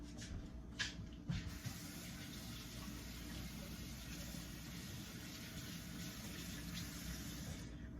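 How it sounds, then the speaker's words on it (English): Hands are washed under a running tap, a steady faint stream of water with a couple of brief splashes near the start. "Wash my hands."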